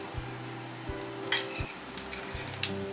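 Battered onion rings sizzle in hot oil in a home fish-and-chips kitchen, a steady close crackling fry with occasional clicks and a low background hum, with no talking.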